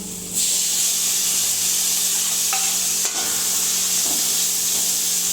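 Prawn roast with chilli powder and chopped tomato sizzles steadily in a hot pan, loud and close, as a spoon stirs with a few light scraping clinks; no one speaks.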